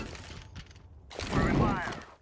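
A grenade is thrown in Counter-Strike 2: a few soft mechanical clicks and rattles come first, then a louder, fuller whooshing burst swells and fades near the end.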